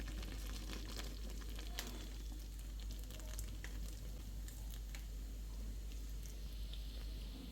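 Melted jaggery syrup poured into ghee-coated rice sizzles steadily, a dense continuous frying hiss with faint stirring patter throughout, close and even in level, no voices.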